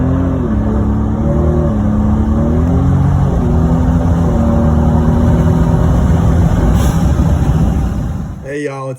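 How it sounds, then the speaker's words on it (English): A Ford Raptor with a stage 2 tune pulls hard, its engine note climbing steadily and loudly through a sustained acceleration run before cutting off near the end. "I'm gonna do a little pull with the stage 2 tune on here."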